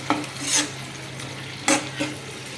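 A spice masala with tomato being stirred in a pan: soft sizzling with a few scraping strokes of a spoon against the pan, short bursts at close range, no voices.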